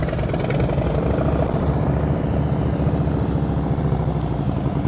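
A motorcycle engine runs steadily at low revs with a chugging, loud and close pulse during slow-speed riding practice, with nobody talking.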